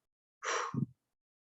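One short, soft breath sounds close and quiet: an airy exhale blown out through the mouth, like blowing out a candle, that ends in a low breathy tail, with silence before and after.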